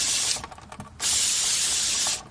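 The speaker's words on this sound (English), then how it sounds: "grab our brake cleaner, and spray it down." Brake cleaner sprayed onto a sanded car wheel hub during a brake service: two loud, close aerosol bursts, a short one and then a steady hiss of about a second, with a rattly gap between them.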